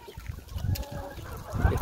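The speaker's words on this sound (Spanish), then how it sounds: "Estamos alimentando las pavas, pavos y pavas, con nuestros gallos." Turkeys, chickens and roosters being fed on a small farm, with nasal honking calls and gobbling chatter close by over a continuous bed of poultry noise.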